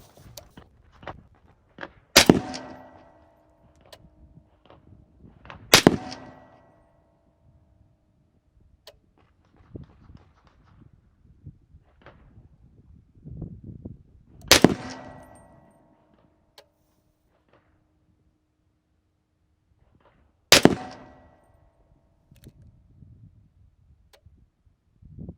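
HK MR762 rifle firing Hornady 150 grain SST rounds, four sharp, loud shots spaced several seconds apart for a five-round group, with faint shuffling and handling noises in between.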